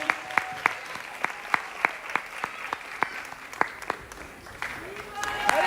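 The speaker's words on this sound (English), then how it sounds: "Give them a louder round of applause than that." Scattered audience applause at a Sri Krishna Janmashtami 2022 celebration, with separate sharp claps spread through the crowd rather than a dense roar and a brief swell near the end.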